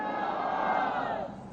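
At a Congress party rally in Bastar, a large crowd chants a slogan for party president Mallikarjun Kharge, their many voices blending into one sustained, fairly distant roar.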